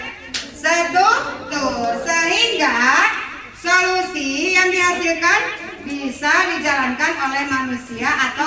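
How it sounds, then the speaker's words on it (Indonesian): Schoolchildren in a classroom chant in a singsong rhythm while clapping along, the voices dominating and the claps mixed in beneath them. "Coba Ibu minta semuanya untuk tepuk belajar."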